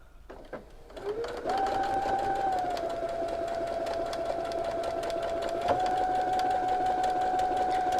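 A sewing machine stitches quilt pieces for a mystery quilt at a slow, steady pace, a continuous close whirring hum after a brief start-up, with a small blip partway through.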